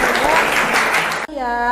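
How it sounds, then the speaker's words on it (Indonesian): A classroom of students claps their hands together in a brief burst of applause, loud and close, cutting off abruptly and giving way to a voice. "silahkan tepuk tangan buat kalian untuk bisa menyanyikan lagu ini"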